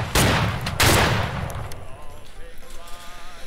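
Musket volley fire in the Battle Cry of Freedom video game during a cavalry line battle, heard as two loud, close booming blasts with rolling echoes, then a fading, rumbling tail of distant shots.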